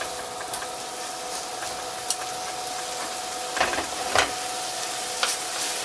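Bulgogi skewers made with Mungyeong medicinal-stone pork sizzle steadily on a hot grill or pan, the juices hissing beneath starch-coated meat, with a few louder crackles and pops rising over the constant fry.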